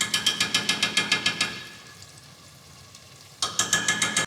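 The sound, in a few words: red onions frying in a pan for Nigerian jollof rice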